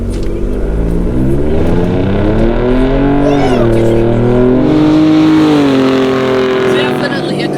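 Hennessey VelociRaptor 600 Stage 2 truck accelerating hard, a loud, steady engine roar with rising harmonics that dip briefly mid-run as it shifts, then climb again, with people talking over it.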